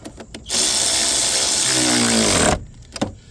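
A tool tightens the 10 mm nut on the positive battery cable of a 2009 Chevy Equinox 3.4 liter during a starter replacement: a loud two-second whirring burst with rising pitch, framed by brief clicks and taps.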